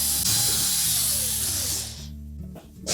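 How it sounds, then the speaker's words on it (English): Power driver backing out quarter-inch hex head retaining screws from the top of a Whirlpool washer, a brief close whirring spin that cuts off, followed by a short mechanical clatter. "we're next going to remove these 3 retaining screws for the main top"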